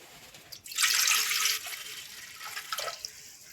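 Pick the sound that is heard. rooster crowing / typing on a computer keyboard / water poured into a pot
water poured into a pot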